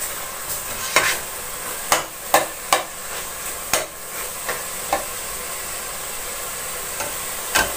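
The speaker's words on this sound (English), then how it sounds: "because the tomatoes are going to be full of juice again and stop the meat from really roasting" Minced meat for a Bolognese roasting in a pan, stirred now and then: a steady close sizzle broken by about a dozen sharp scraping clicks of the spoon against the pan, with no talking.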